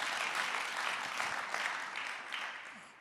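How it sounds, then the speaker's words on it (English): An audience at a talk on California politics breaks into brief, steady applause, a dense patter of clapping that thins out toward the end. "Yeah, you can clap for that."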